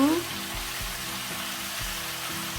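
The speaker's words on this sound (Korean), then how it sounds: "설탕을 먼저 넣어서 잡내도 잡고 단맛이 먼저 배이도록 볶아줍니다." Pork sizzling and being stir-fried with sugar in a hot pan for Korean spicy pork, a steady sizzle with soft periodic scraping strokes, close and unaccompanied by speech.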